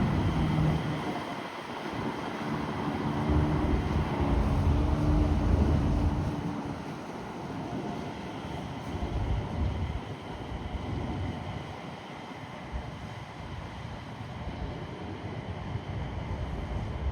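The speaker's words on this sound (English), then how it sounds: "Train going by again." A train passes near a lit stadium construction site at night, a steady low rumble that swells around the middle and lingers as a broad, continuous wash of noise with no talking.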